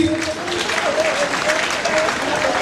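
An audience at a school arts and culture festival applauds steadily, a dense, continuous wash of clapping with faint tonal sounds over it.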